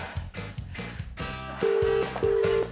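Ringing tone of an outgoing phone call, two long steady electronic rings with a gap between them, loud and clear over a background of music and chatter.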